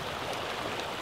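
A small, deep river channel in Slavyansk flowing with a fairly strong current in spring, giving a steady, close rushing wash of water with no voices.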